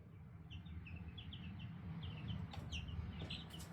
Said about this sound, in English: you can go out there and you can call your chickens up by doing that